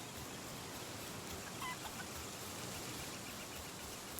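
Chickens in the video game Palworld give faint, scattered clucks, barely rising above a steady wash of broadband in-game ambient noise, with no voices.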